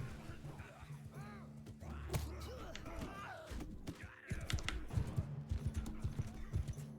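Horse hooves clip-clop on the ground in Mount & Blade II: Bannerlord, with irregular clattering steps, a few thuds and faint whinnying over a steady game backdrop.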